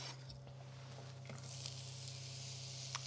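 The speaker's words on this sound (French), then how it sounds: "Les oignons commencent à chanter." Onions sizzle in hot oil in a pan, a soft, steady hiss with a faint crackle running throughout and a low hum beneath it, with no talking.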